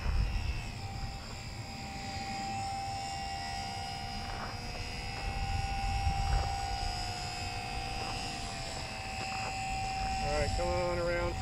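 A Super Cub model airplane flies overhead, its small engine buzzing as a steady high whine that swells and fades slightly as it circles for over ten seconds.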